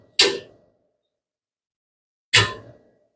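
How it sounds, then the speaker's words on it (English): The in-feed door on the front of a CO2 laser cutter folds down, giving two separate sharp metallic clanks about two seconds apart, each decaying quickly into silence. "Now the in-feed door is right here on the front. It just folds down."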